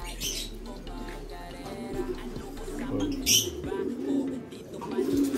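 Pigeons cooing in a loft, a blue bar and a checked bird kept together, with soft repeated low coos and scattered chirps over steady background noise; no talk during the calls.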